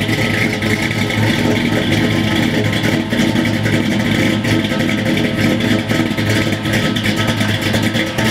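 A carbureted small-block V8 in a Chevrolet C10, fitted with a Scat rotating assembly and a Muthr Thumper cam, idles loud and close with a steady, lopey, rumbling pulse throughout.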